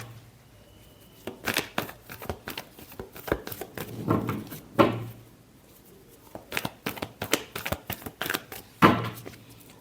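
A deck of tarot cards is shuffled close up, giving a run of quick riffling and flicking bursts with brief pauses between them.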